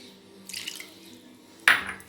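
Tamarind juice poured over fish pieces for Godavari fish curry gives short liquid splashes against a metal vessel, one soft pour and then a sharper splash, with little else around it.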